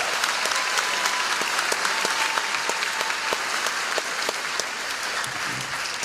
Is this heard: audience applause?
yes